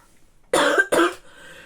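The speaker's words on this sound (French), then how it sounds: "Alors je tousse toujours, ça me réveille la nuit." A woman still recovering from weeks of illness coughs twice, close and sharp, after a silent moment, and the second cough trails off into a throaty rasp.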